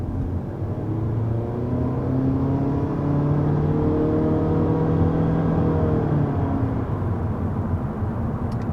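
A 2022 Honda Civic Sport accelerates steadily, its engine note climbing in a smooth continuous drone that rises and holds for several seconds before easing off, heard from inside the car with no talking.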